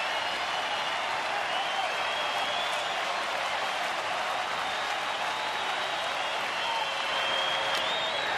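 Sustained applause and cheering from a packed Philadelphia baseball stadium at night, a continuous even wash of clapping with faint whistles rising near the end.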